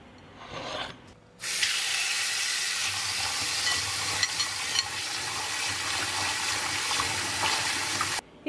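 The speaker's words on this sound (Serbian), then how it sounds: "ja sad idem da operem beli luk" Peeled garlic cloves washed in water, a steady rushing, rubbing wash that starts abruptly after a brief quieter moment, runs evenly for several seconds, then cuts off, with no voices.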